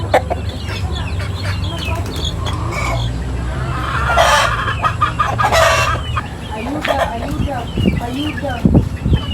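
Farmyard chickens clucking nearby with a rooster crowing, repeated calls over a steady low hum, with a person speaking at times between the bird sounds.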